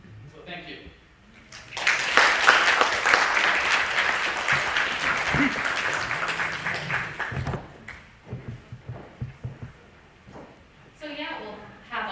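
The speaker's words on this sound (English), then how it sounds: "Can I get one more round of applause for everybody?" An audience applauds after the presentations at the Yamaguchi Japan-America Society's 10th anniversary event. The clapping swells quickly into a dense, sustained round, then fades into scattered claps under a voice that speaks.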